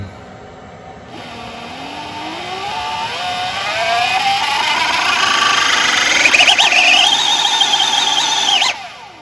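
A 72V MY1020 e-bike motor on a Votol EM100 controller, running erratically with a whine that climbs steadily in pitch, then wavers and jumps at high speed before cutting off abruptly, loud and close.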